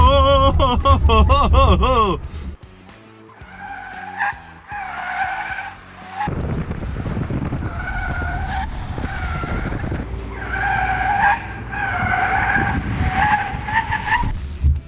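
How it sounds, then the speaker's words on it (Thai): A NETA V electric car skids sharply during a test drive, tires squealing in repeated loud bursts with other noise in between, as people talk excitedly throughout. "รถมันเบาอะ่ะ รถมันแบบวิววิวไปเลยเมื่อกี้"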